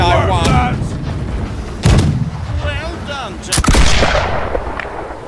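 Cannon fire aboard a sailing warship in the naval combat game Blackwake, with several heavy booms spaced a second or two apart, loud and close, while voices shout over the noise.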